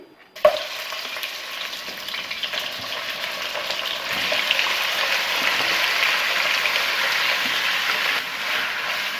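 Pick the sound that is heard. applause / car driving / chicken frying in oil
chicken frying in oil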